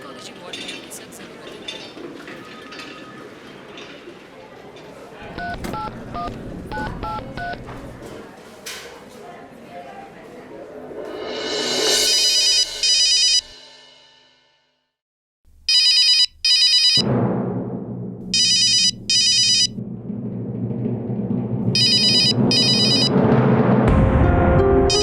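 A telephone rings repeatedly in a domestic scene of an Indian TV serial, bursts of bright electronic ringing separated by short gaps, preceded by faint clinks and background sounds.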